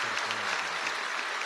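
A short burst of clapping rises from a congregation at a Christian sermon gathering, brief and moderately loud, settling into a soft patter with no speech.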